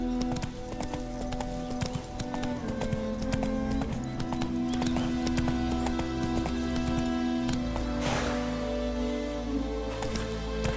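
Roach the horse gallops in a video game, steady clip-clop hoofbeats running throughout over layered game music and ambience, with a brief burst of noise near the end.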